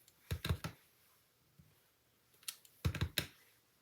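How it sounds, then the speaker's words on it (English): Rubber stamp pressed onto paper for a Perennial Postage card, a few close, quiet clusters of soft taps and thumps separated by pauses, with no talk. "While I'm stamping this."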